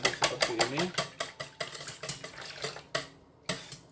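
A utensil stirs a fresh milk and cream mixture for a quiche Lorraine in a bowl, making a quick, regular run of close clinks and taps that slows and spaces out toward the end, with a voice speaking briefly.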